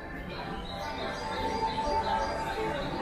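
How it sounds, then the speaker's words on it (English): Faint bird chirps play from televisions in a large retail store's electronics department, small tweets over a steady background murmur of store noise. "Keep hearing birds. But I think that's on the TVs."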